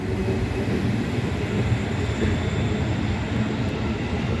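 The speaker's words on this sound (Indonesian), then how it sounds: "Iya tuh kereta jalan tuh." A train rolls past at close range, a steady loud rumble of wheels and wagons on the rails lasting throughout with no speech.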